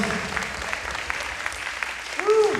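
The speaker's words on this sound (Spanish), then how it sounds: "aplauso al Señor, fuerte" A church congregation at a Mass in Tijuana applauds in a steady, moderately loud patter of many hands, with a voice rising over the clapping near the end.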